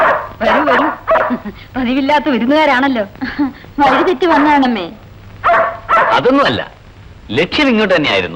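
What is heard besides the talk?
dog barking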